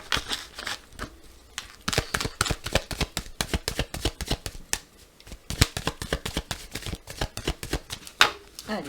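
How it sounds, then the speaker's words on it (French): A deck of oracle cards is cut and shuffled at close range, giving a steady run of crisp, rapid riffling clicks and flutters with short pauses, and one louder snap near the end. "On va faire une petite coupe d'abord et ensuite on fera le tirage des 4 cartes."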